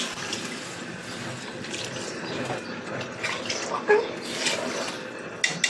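Water poured into a pan of frying rice for khichuri, giving a steady broad rush and splash with a few sharper spatters near the end, close by.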